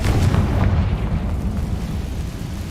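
A Confringo fire spell blast in Hogwarts Legacy lands as a loud, dense roaring burst that fills the whole clip, with a heavy low rumble that eases off only slightly toward the end.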